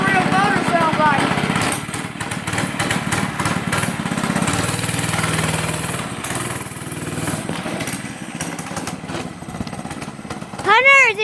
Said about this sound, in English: Now that's what a real motor sounds like.